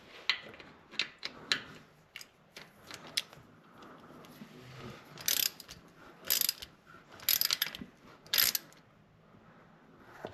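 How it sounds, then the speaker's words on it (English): Ratchet clicks in short bursts as the oil drain bolt is tightened on a 2019 Yamaha Kodiak 700 ATV during an oil change, with sharper rapid clicking runs later in the clip and quiet pauses between strokes. "First, I'm going to tighten this drain bolt."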